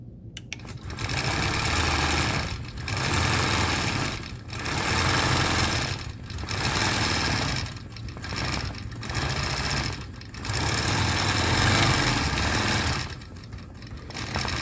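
Longarm quilting machine stitching deep feathers on a quilt, a loud steady mechanical whir running in long stretches broken by brief pauses where the stitching stops, close up with no talking.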